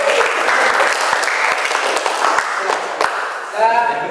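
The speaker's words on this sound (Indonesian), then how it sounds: "Aplaus ya." An audience at an Indonesian teacher training session claps in steady applause filling the room, with a voice speaking briefly near the end.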